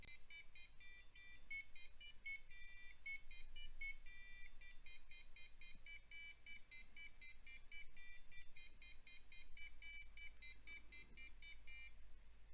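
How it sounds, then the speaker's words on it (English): An Arduino passive buzzer plays a quick melody of short shrill tones changing pitch in rapid succession, alone and fairly faint, stopping just before the end. "this is now the goal of our melody, of our passive buzzer"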